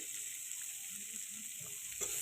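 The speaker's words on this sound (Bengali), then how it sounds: "এখন মা পটল ভাজছে" Pointed gourd frying in a pan for a yogurt curry, a steady soft sizzle with occasional faint stirring scrapes, fairly quiet and continuous throughout.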